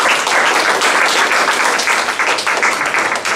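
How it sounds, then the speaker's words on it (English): An audience applauds steadily and densely after a British parliamentary debate at Kyushu University, with the clapping loud and continuous throughout. "I think we should give everyone another round of applause for their outstanding British parliamentary debate."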